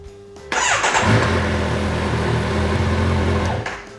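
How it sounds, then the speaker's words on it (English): A Kawasaki Ninja 1000SX motorcycle engine cranks and catches after a brief starter whir, then settles into a loud, steady close-range idle for about three seconds before cutting off. "pull the clutch in, and make sure the motorcycle starts."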